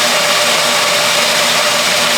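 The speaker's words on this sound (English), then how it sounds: "This is a really strong blender that I love for my smoothies and my sauces. And so I'm gonna do the high because the almonds need to be pureed." High-powered blender running on its high setting, pureeing almonds in a home kitchen: a steady, loud, continuous motor whir with a sustained hum, unbroken throughout and with no talking.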